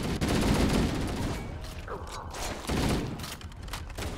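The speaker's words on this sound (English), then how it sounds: "these actually kind of sound like the pulse rifles from Aliens" Rifle fire in the video game Halo: Combat Evolved comes in loud, rapid bursts with brief pauses and mechanical clatter between them, and no one talks.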